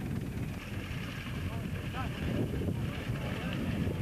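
Steady wind buffets the microphone outdoors on a rough, windy section of a 1994 motorcycle trial course, a broad continuous roar filling the whole stretch with low rumble, and faint voices and an engine beneath it.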